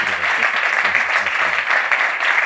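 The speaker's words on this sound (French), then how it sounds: "on peut applaudir Jérôme" An audience claps for Jérôme in a talk hall, a steady dense round of applause from many hands, fairly loud and sustained for the whole stretch.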